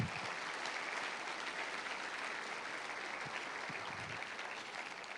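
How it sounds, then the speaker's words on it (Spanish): Steady, fairly distant applause from a church congregation fills the whole stretch, an even wash of many hands clapping with no break and no clear voices. "Dale fuerte ese aplauso al Señor."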